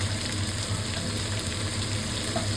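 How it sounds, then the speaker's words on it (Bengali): Potato pieces fry in hot oil in a home kitchen, giving a steady, soft sizzle with faint bubbling throughout and no voices. "এখানে আলু ভাজা হচ্ছে"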